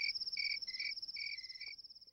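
Crickets chirp in steady rapid pulses, a high trilling tone with short bursts of a lower chirp repeating underneath, clear and close with no voices.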